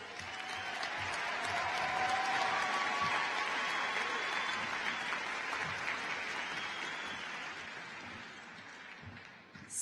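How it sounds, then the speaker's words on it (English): Steady applause from the crowd at a Shadle Park High School graduation ceremony, swelling and then holding as a broad wash of clapping for several seconds before tapering off. "We welcome your applause."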